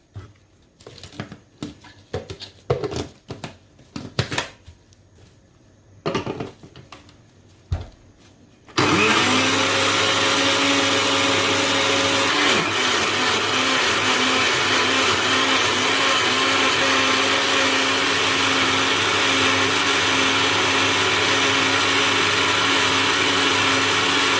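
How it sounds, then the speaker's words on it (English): An electric blender blending water for a chlorophyll drink starts after a few clinks and handling noises, then runs as a loud steady whir to the end. "I will start blending."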